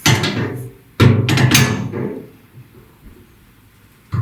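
A crescent wrench works on a faucet handle part during a leak repair, giving a few close, sharp metallic clanks and knocks, with a short burst of three at the start, then fading to quiet.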